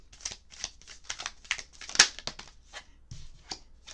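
Tarot cards being shuffled by hand, a quick series of dry papery riffles and soft taps spread across the moment, close and fairly quiet with no talking.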